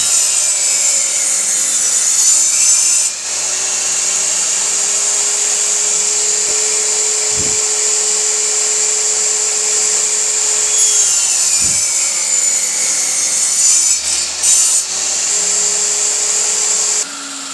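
A woodworking machine cutting a wooden tenon, a loud steady whining buzz of the cutter biting into the wood, with a couple of brief changes in pitch as the pass starts and ends.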